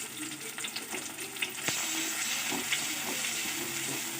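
Tomatoes sizzle and fry in hot oil in a pan for bread samosa filling, a continuous close crackle and hiss with a brief stir partway through and no talking.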